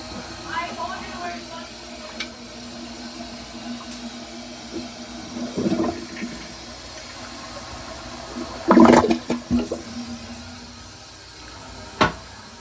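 A Glacier Bay dual flush toilet with a blocked siphon jet, flushed while fitted with normal tank parts: faint clicks and trickles, then a short gurgling rush of water with sputtering bursts, heard close in a quiet room.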